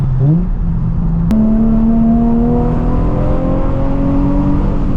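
A Nissan 350Z HR engine revving while driving, a loud in-cabin drone that climbs sharply after a gear change and then holds a steady, slowly rising tone under constant road noise.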